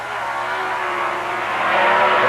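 Pro stock drag racing cars from the 1979 NHRA Cajun Nationals, including a Plymouth Arrow, roar down the track in a loud, steady engine blare that builds slightly toward the finish line.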